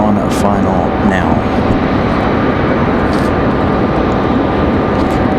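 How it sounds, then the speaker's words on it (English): A Delta Connection CRJ-900LR regional jet on final approach at Raleigh Durham airport gives a steady, loud engine roar with wind noise throughout, while people talk over it. "the Delta Connection CRJ-LR 900LR. That one on a final now."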